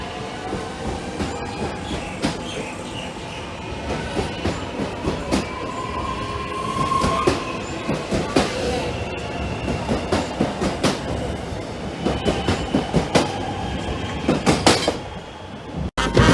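A train departs a Melbourne station, rolling past at close range, wheels clattering rhythmically over rail joints with occasional squeals, the rumble swelling and fading over time.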